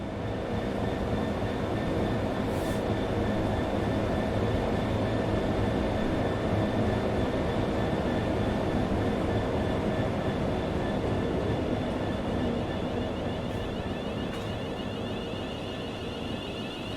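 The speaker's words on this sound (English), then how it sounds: "we see a DB Schenker loco move with 66113 leading the train to Hugh Junction" A DB Schenker Class 66 locomotive, 66113, hauls a train past Strood station with a loud, steady rumble of engine and rolling wagons, sustained and close for the whole stretch, with faint high squeals now and then.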